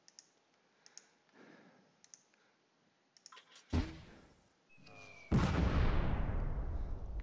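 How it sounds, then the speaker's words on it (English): Mortar firing in a World War II tank battle game set at Fontenay-le-Pesnel, heard as sharp clicks and then a few loud, close launch blasts. Each blast trails into a long, noisy rumble, and no one speaks. "Let's see if our mortar can do the job."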